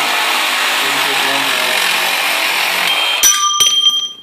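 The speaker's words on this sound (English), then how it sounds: "I'm using just a regular battery-operated Sawzall" Battery-operated Sawzall reciprocating saw cuts through an iron stair baluster, a loud continuous high buzzing grind heard up close, ending with a couple of sharp metallic clanks as the cut finishes.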